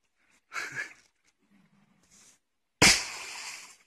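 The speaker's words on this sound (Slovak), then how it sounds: "Zatrasilo ešte tým petardami." Firecrackers going off outdoors: a short crackling burst, a quiet gap with faint murmuring, then one loud sharp bang with a ringing, decaying tail.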